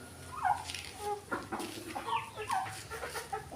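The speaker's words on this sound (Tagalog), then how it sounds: "Ito mga alaga manok." Several chickens cluck and murmur nearby in short, overlapping calls, with no people speaking.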